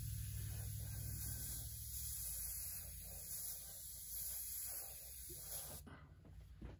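An airbrush hisses steadily up close while spraying pink paint on a portrait, a low electrical hum beneath it, the spray sputtering slightly from a partial clog before cutting off near the end.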